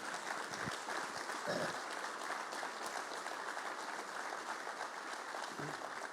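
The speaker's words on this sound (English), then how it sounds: "How about an applause for your service?" An audience applauds veterans at a leadership talk, steady dense clapping filling the room for several seconds at moderate loudness, with no talking over it.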